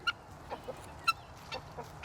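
Backyard chickens clucking softly at feeding time, several short, fairly faint clucks spaced irregularly over a quiet background with no talking.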